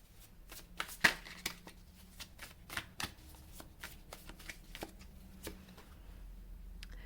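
Tarot cards are shuffled close by for a reading, a quiet run of crisp riffling snaps and flicks in uneven bursts, with a longer pause near the end.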